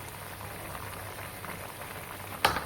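Bitter gourd curry with onion, garlic and peanuts bubbles at a steady low simmer in a pan, a continuous soft gurgling hiss with one brief louder pop near the end; no talking.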